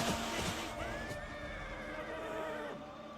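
A cavalry horse neighs in a Total War: Rome 2 battle, one drawn-out whinny rising out of a dense, continuous wash of battle noise, with no talking.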